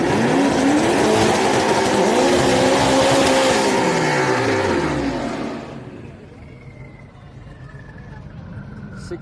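A truck roars down a drag strip at a Houston raceway's street night, a loud rising engine howl that falls in pitch as it pulls away and fades, leaving distant engine noise.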